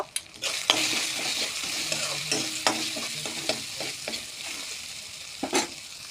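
Spiced oil with ground cumin paste, ginger and other spices sizzles in a pan with potato and fish, stirred with a spoon in a steady run of scraping strokes and a few sharper clinks, close and moderately loud.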